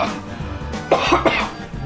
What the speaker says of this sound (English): get the sentence out before you cough